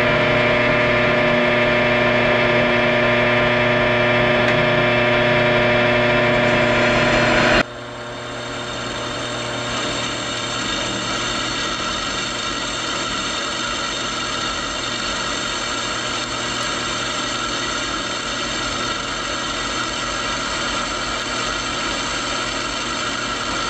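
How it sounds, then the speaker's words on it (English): A power drill bores a 1/4 inch hole near the edge of a live edge wood slab, a loud steady whine that drops slightly in pitch partway through and then holds a constant hum. "So I'm drilling a 1/4 inch hole, and I'm doing it 1/2 inch from the edge on each of these."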